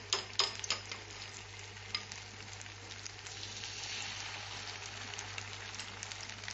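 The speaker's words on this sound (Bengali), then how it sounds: "এটা ভাজা হলে, একদিক ভাজা হলে আবার উল্টে দেবো।" Gokul pithe, sweet dumplings filled with khoa and a little coconut, fry in oil in a pan with a steady soft sizzle, opening with a few clinks and stirring taps and then settling into continuous quiet crackling.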